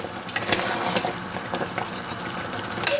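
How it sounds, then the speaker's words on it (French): A spoon scrapes and knocks irregularly in a pot of thick plum jam cooked with port, a soft, close stirring sound with occasional sharper clinks and no talking. "Donc, j'hésite pas à mélanger quand même."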